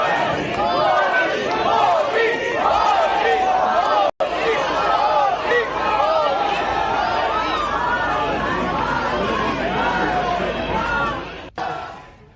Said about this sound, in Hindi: वहां मौजूद लोगों ने तालियां बजाकर इसका स्वागत किया और मोदी मोदी के नारे गूंजने लगे